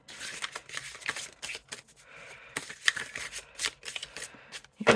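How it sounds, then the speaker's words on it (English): A tarot deck, Antiquarian Tarot third edition, is overhand shuffled in a quick run of crisp card riffles and soft slaps, close and fairly quiet with no voice. "They obviously overhand shuffle very well."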